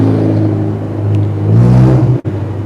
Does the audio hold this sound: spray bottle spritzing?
no